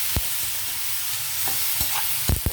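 Ivy gourd fry crackles in a pan as a spoon stirs it, with a constant close sizzle and a few distinct scraping strokes and knocks in quick succession.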